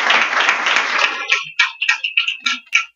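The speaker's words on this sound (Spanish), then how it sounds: "Entonces los recibimos con un aplauso." An audience at a research conference panel on water and climate adaptation applauds, a dense burst of clapping that quickly thins into a few scattered, separate claps.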